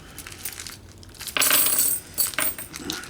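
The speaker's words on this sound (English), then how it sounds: "sound of money." Coins clinking and dropping in a short bright metallic burst, a clustered jingle in the middle of the clip followed by a smaller rattle, with no talk, in a segment about silver money.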